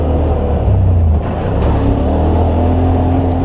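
A motorcycle riding on a mountain ridge road gives a loud, close, steady engine drone with a brief dip in the middle, as if the rider eased off the throttle before pulling on again.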